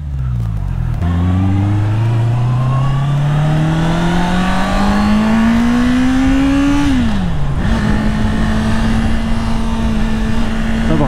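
A 2022 Honda CB650R motorcycle accelerates hard and close, its engine note climbing smoothly through the revs, dropping briefly at a gear change, then holding a loud, steady drone.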